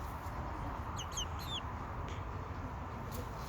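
Hens on a small grazing flock give a few soft, quick clucks, faint and distant over steady outdoor background noise.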